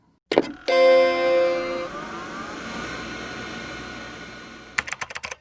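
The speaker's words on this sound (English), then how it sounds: "Let me turn on my computer to type that in." Keys tapped on a computer keyboard in a quiet indoor room, a short burst of clicks near the end following a few seconds of steady hum and an earlier faint clatter, close and moderately loud with no talking.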